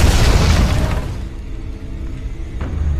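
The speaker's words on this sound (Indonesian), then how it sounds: "bom dinamit itu pun meledak dan membunuh para penembak Gatling" A dynamite bomb explodes in a cowboy action film, a loud deep boom that fades into a long rumbling decay with debris scattering at the end.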